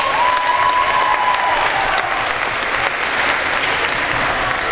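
An audience applauds at a 2016 talent show event. The clapping is dense and steady, loud and close, with crowd noise mixed in and a brief high tone near the start.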